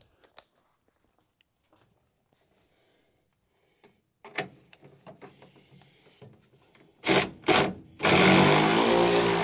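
An electric ratchet removes bolts during a Charger crew cab restoration: faint scattered clicks and taps give way to two short, loud whirring bursts and then a sustained, loud buzzing run at the end.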